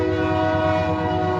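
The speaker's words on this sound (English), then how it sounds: "Sorry about the train." A train passes close by with its horn sounding, a loud sustained blare made of stacked steady tones over a rumbling rail roar, with no voices.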